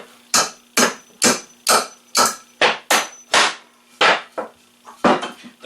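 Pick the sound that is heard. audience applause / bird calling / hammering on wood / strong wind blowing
hammering on wood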